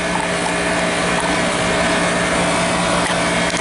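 Engine-driven power unit for hydraulic extrication rescue tools running at constant full output with no throttle, a loud continuous buzzing drone with a steady hum, close by and unbroken.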